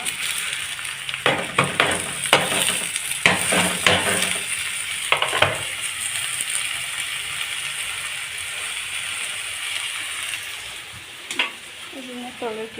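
Chopped tomato hits a hot pan and sizzles, with a burst of rapid metal spoon scrapes and clatter in the first seconds, then a steadier frying hiss; a voice speaks briefly near the end.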